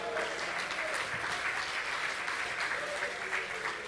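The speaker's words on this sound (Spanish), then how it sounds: "hukmanyay palmas para Cristo" A church congregation clapping in praise during a Quechua-language service, sustained dense applause for several seconds, steady and moderately loud without a break.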